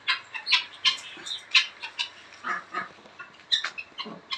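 A rooster and hens in a home garden, fed on wheat, cluck and squawk in a busy run of short, loud, close calls, some overlapping, with no voices.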